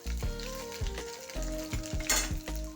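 Ginger garlic chili paste and coriander seeds sizzle and fry in hot oil for a samosa filling, a steady close crackle, with tonal hum from the cooking setup and a brief louder spatter near the end.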